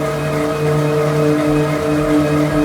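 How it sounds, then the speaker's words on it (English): Smart bike trainer under hard pedaling effort of over 200 watts, a loud steady jet-like roar with strong tonal whine bands and gentle surges, continuous and close with no talk. "it does sound like a jet engine, like a literal jet engine whenever I'm pushing 200 plus watts"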